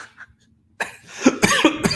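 After a brief quiet pause, a man nearby coughs in a harsh, rapid series of several bursts, with some throat clearing.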